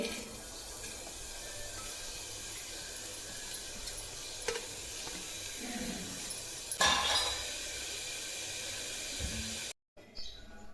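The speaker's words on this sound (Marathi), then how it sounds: "मी आता या कुकरमध्ये उसळची भाजी करते" Continuous sizzling and stirring of sprouts curry with onion in a pressure cooker, close by, with a brief metallic clatter near the end before it cuts off.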